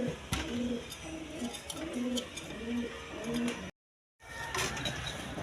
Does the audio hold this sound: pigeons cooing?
yes